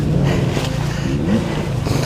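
A dirt bike engine revs loudly and steadily close by, its pitch wavering slightly as the throttle is held.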